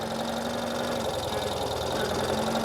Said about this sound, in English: I did shut off the bike, but we'll start it back up.